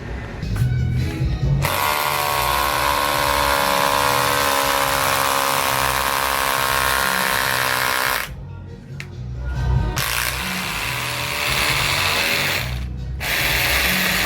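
A DongCheng DCZC 13 cordless rotary hammer with an SDS bit grinds and hammers steadily into a concrete wall for several seconds, pausing briefly twice before resuming, loud and close with a buzzing mechanical whine.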